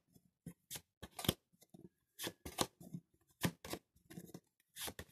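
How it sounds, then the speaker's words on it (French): Tarot cards being drawn and handled from a deck make soft, close, papery snaps and slides in quick irregular bursts with short pauses between them, and no one speaks. "Alors, je vais tirer 5 cartes."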